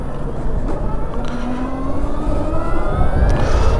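Harley-Davidson LiveWire electric motorcycle on a first ride: a steady electric motor whine with rising tones, carried over constant wind and road rush.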